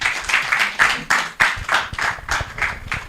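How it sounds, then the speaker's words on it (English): An audience at a political strategy summit applauds a speaker being introduced, a ragged patter of claps with a few louder bursts, fairly close and steady for a few seconds. "a round of applause for him."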